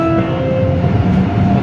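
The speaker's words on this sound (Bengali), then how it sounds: "ট্রেন চালু দিয়ে দিল, ট্রেন অলরেডি চলার অবস্থা দেখেন।" An underground metro train in China starts to move, giving a loud, close, steady rumble with a faint humming whine and no speech.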